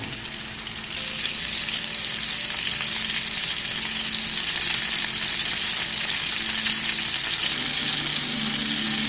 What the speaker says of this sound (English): So I'm going to let these cook brown on each side.